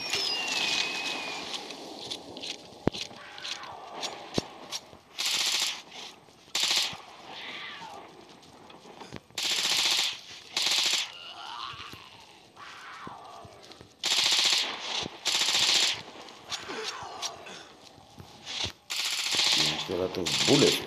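Bursts of machine gun fire in the zombie shooter Into The Dead 2, loud and repeated in short volleys separated by brief pauses, with other game sounds in between.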